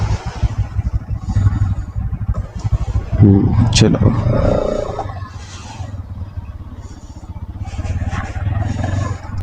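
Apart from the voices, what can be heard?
NS 200 motorcycle engine started and idling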